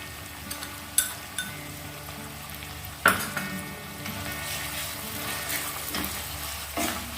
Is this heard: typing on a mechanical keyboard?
no